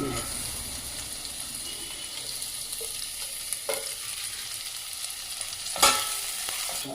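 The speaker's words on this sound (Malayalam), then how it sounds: "ഇപ്പോൾ ഉള്ളി വഴന്നു ഏതാണ്ട് ബ്രൗൺ കളറായി അപ്പോൾ ജിഞ്ചർ ഗാർലിക് പേസ്റ്റ് ഇട്ടു കേട്ടോ" Browned onions fry with ginger garlic paste for a garlic rice dish, giving a steady, moderate sizzle with light stirring and a sharper scrape or clatter near the end; no talking.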